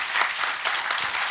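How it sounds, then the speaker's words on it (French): Applause from a conference audience at a French finance event, a short burst of dense, steady clapping heard close and alone. "On peut vous applaudir."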